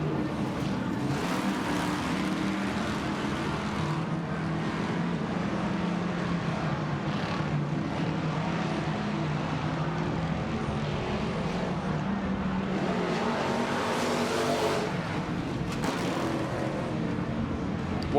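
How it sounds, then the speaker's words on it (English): A race truck engine stuck in second gear screams at sustained high revs, a loud continuous roar that rises and falls slightly as the truck passes at a TORC off-road race in Chicago. "stuck in second gear, just super high revs"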